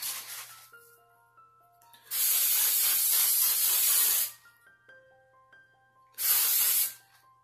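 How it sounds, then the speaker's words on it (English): Two loud bursts of Aqua Net Extra Super Hold aerosol hair spray, a very wet spray, one long and one short, with quiet soft tones in the gaps between them. "It's a very, very wet spray."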